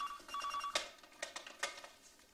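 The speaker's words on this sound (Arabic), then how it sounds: "لحظه رح ارد على التليفون وارجع كمل لك القصه" A telephone rings in a room in short bursts of bell-like tones, moderately near and a little soft, heard on its own without speech.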